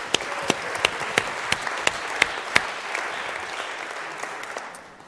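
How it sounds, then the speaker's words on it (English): Applause at a church service meeting, a crowd clapping steadily with a few sharp, distinct claps standing out at first, then settling and gradually tapering off. "Can we give a round of applause?"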